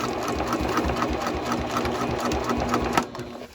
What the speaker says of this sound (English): so I do sew it twice